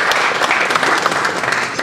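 An audience at a lecture on family politics breaks into dense, sustained applause, many hands clapping loudly and close with no speech over it.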